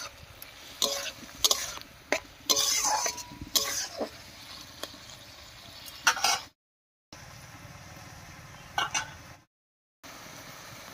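Bottle gourd being sautéed with ground spice paste in a pan for a pabda fish curry: soft sizzling under repeated scraping, clattering stirs of a spatula, with brief silent gaps.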